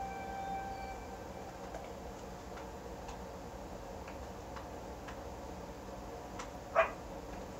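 A dog in the video game Fable 2 gives one short, sharp bark near the end, rising above a steady bed of game ambience with faint ticking and tonal hum.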